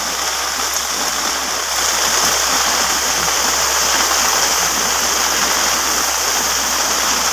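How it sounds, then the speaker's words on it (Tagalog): Heavy rain driven by strong wind during a possible typhoon, a dense, steady hiss and roar that stays loud and unbroken throughout, with no voices. "ang lakas pa ng ulan"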